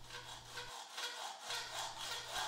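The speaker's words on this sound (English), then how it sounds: "a hacksaw and a bench vise combined can take you a long way" A hacksaw cuts through metal clamped in a bench vise, its strokes a steady rasping back-and-forth with a brief pause mid-way, close and fairly loud with no talking.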